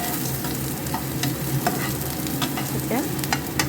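Bay leaf frying and being stirred in a pan for Gobinda Bhog rice fried rice: steady close sizzle with repeated scraping strokes of a spoon, no voices.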